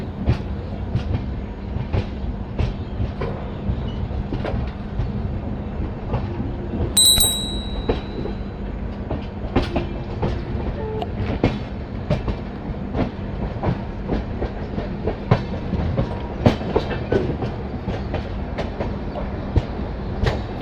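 Ranchi–Howrah Shatabdi Express rolls around a long curve into Dhanbad station, steady wheel rumble with repeated clickety-clack joint beats heard from on board and a brief high metallic squeal near the middle, no voices.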